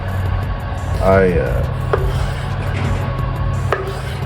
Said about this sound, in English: so I'm just gonna cut this up